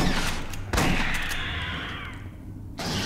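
Gunfire in the video game Aliens: Colonial Marines: a couple of heavy blasts with a long rumbling tail between them, loud and close.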